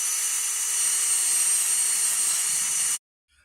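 Power drill spinning at steady high speed for about three seconds, loud and close, then cutting off abruptly into silence.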